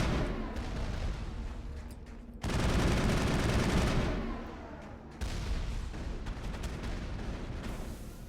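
An enemy turret in Mass Effect fires at the player, a sustained heavy barrage of gunfire that surges in intensity mid-way and keeps rattling, loud and without talk.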